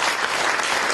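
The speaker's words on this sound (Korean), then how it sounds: "박수 부탁드리겠습니다" Brief, loud, dense applause from the audience at a book launch event in a press center hall, a full crowd clapping continuously for about a second.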